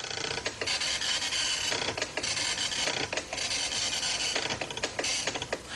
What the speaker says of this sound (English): instead of listing to the screen, the computer will list to the printer